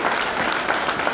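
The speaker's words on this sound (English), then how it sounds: "please give them a big round of applause." Warm applause from the audience at a community day celebration, steady dense clapping that holds evenly throughout without any pause, close and fairly loud, with no voices rising above it.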